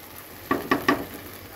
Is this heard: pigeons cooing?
no